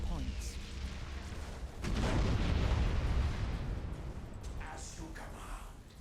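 Rumbling torpedo explosions strike a fleet in Battlefleet Gothic Armada 2, a broad swelling blast that rolls for about a second and fades, with sharper distant bursts afterward beneath a continuous game backdrop.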